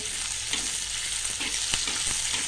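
Garlic and green chilli roast in a little oil for katachi amti, giving a dense, even sizzle close by with a few soft stirring knocks.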